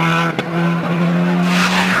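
A WRC rally car spinning off a German rally stage and sliding across grass, its engine roaring loudly close by with a brief rising howl and a rush of skidding noise, all packed into about two seconds.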